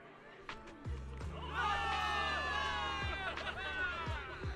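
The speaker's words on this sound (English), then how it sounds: "Cheers rise up from the gathered soldiers." In Zenless Zone Zero, a crowd of soldiers cheers and shouts together, swelling to a loud peak in the middle before tapering off over a low rumble.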